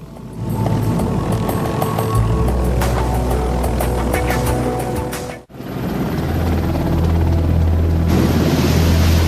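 A helicopter flies close by with a loud, steady rotor chop and engine whine that cuts out briefly partway through, then returns just as strongly.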